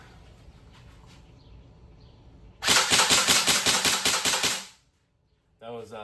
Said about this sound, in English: That was semi-auto, and we'll do a round of full auto.